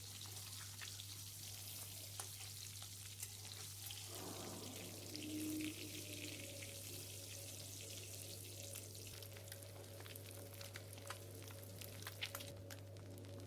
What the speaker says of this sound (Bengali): এবার আমি আর এক সাইড ভেজে নেব।